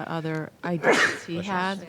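A person sneezes once in the middle of a school board meeting, a short sharp burst with a broad noisy spray, set between stretches of nearby speech.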